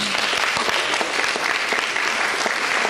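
An audience at a cosplay costume contest at the Polcon 2016 fan convention in Wrocław applauds steadily, a dense and loud wash of clapping that fills the hall throughout.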